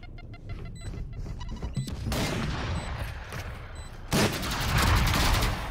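Gunshots in a Valorant match, loud sharp shots with heavy noisy bursts and blasts rising toward the end, mixed with game effects and no clear talk.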